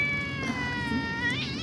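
Cats meowing and crying in a house, one drawn-out wavering wail rising and bending in pitch, close and fairly loud, with no talk.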